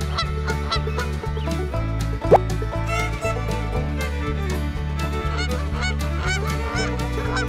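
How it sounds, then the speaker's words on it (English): A goose honks in short, scattered calls mixed into a loud, steady music beat, with one sharp honk standing out near the middle. "Goose."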